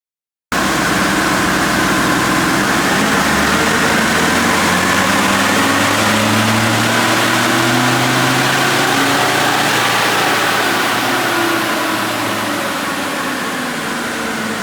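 A Ford Ranger diesel engine runs on a dyno with a loud, steady drone and a rumble that rises in pitch across the run, then eases off slightly at the end, with no voices.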